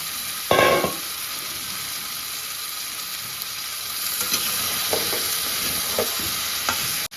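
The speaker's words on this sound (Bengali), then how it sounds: "আমি মাছগুলো দিয়ে একটু কষিয়ে নেবো ভালো করে।" Giant freshwater prawns sauté in a hot pan with a loud steady hiss, with a sharp burst as they hit the oil early on and occasional stirring scrapes, no voices.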